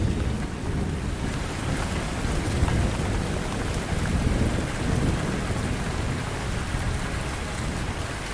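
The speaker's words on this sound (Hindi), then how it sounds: "गरजती धार, आफत मूसलाधार।" Torrential monsoon downpour during flooding in India: dense, unbroken hiss of heavy rain pounding surfaces, with low rumbling like thunder underneath, steady and close throughout with no talking.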